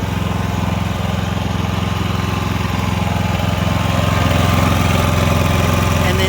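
A Predator 5000 portable generator runs steadily with its fuel switch off, burning off the last fuel in the carburetor; the engine drones at a constant, close, loud pitch throughout with no voices.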